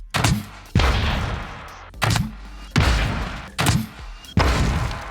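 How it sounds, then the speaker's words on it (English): Explosions in the survival video game Scrap Mechanic, a series of four or five loud blasts each followed by a rumbling decay, spaced roughly a second apart with no talking. "I'm gonna give it a shot to see how this explosion goes."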